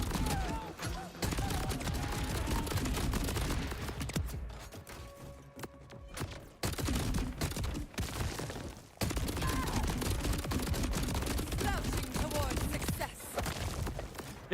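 Rapid bursts of gunfire from the video game Borderlands 4, dense and loud, with a brief lull in the middle before the shooting resumes at full intensity.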